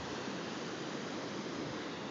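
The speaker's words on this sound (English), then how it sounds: "Some waves." Ocean waves wash against a rocky shore, a steady broadband surf roar heard alone and fairly close without a break.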